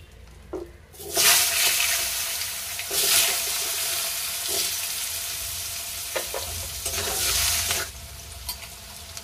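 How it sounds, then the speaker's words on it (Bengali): Rohu fish pieces and diced potatoes fry in an oiled pan, loud broadband sizzling swelling in bursts as the food is stirred and turned, with scraping utensil clatter between surges; no one speaks. "আমি মাছগুলোকে এক করে এর মধ্যে যে ডুমো ডুমো করে আলুগুলো কেটে রেখেছিলাম সেগুলোকেও ভেজে নেব"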